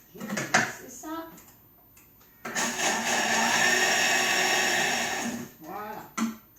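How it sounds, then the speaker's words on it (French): An electric mixer blending chocolate cake batter: a loud, steady whirring hum runs for about three seconds, with a person talking briefly before and after it. "Ensuite, on commence à mixer. Allez hop, on y va. Je vais mixer ça."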